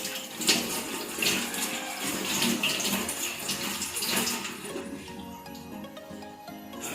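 Water runs and splashes steadily while something is rinsed clean during a hands-on patient-care practice session, fairly close and continuous, with no talking.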